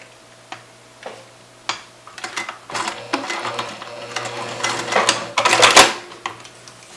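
A sewing machine bastes a seam on a tote bag in short bursts of needle ticking, with scattered clicks and handling noises between runs, fairly close and moderately loud.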